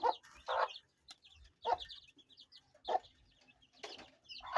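Chickens kept for grilling cluck in short separate bursts, several calls spaced across the stretch, fairly close but quiet, with no talk over them.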